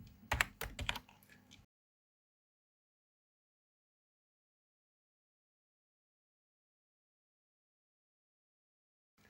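Code is typed on a computer keyboard in a quick, close burst of rapid keystrokes lasting under two seconds, followed by near silence.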